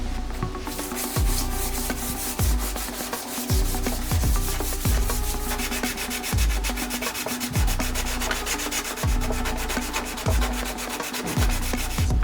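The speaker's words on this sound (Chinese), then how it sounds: "所以我们可以先把它打磨干净" Fiberglass car body part being sanded by hand, a close, steady rasping rub with regular strokes about once a second, no talk.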